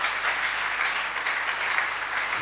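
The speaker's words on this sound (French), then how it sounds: "Applaudissons fort le Seigneur." Church congregation applauding during a sermon: a short, steady burst of dense clapping at moderate volume with no speech over it.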